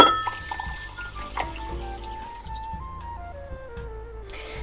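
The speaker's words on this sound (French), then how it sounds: "je mets quand même de l'eau chaude, hein, tiède ou chaude, pour que ça facilite l'extraction du gel" Warm water pouring over flaxseeds in a bowl to extract flaxseed gel for hair, a steady liquid stream with a falling, filling pitch, close and alone.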